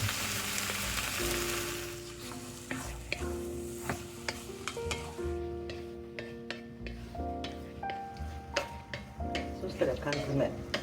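Tomato puree sizzles and spits in a pot on a home stove as its moisture cooks off, a steady close frying hiss broken by stirring clatter and a few sharp ticks of a utensil against the pot.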